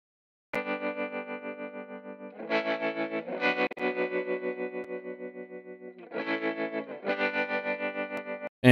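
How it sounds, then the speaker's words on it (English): An electric guitar plays sustained chords with a pulsing tremolo effect, the volume throbbing rhythmically as the chords change, heard alone and clean. "That's an EQ with tremolo going on."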